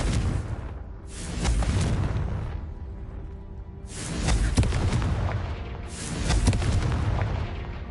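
Confringo spell explosions in the video game Hogwarts Legacy: three heavy booming blasts in a row, each swelling and then rumbling away over a low roar of background noise.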